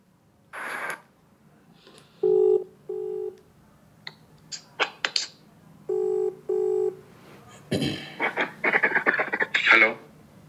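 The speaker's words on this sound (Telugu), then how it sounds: "ఇది యాక్చువల్గా ఫస్ట్ కాల్ అండి" A played-back phone call recording, with a short dial tone, then paired ringback tones, and bursts of speech coming through the phone line, all fairly close and clear.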